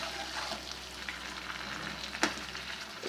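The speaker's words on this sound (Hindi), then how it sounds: "इसको फ्राई करते हैं कुछ देर" Aloe vera pieces frying in ghee, a quiet, continuous sizzle with occasional soft stirring and one sharper scrape near the end, no speech.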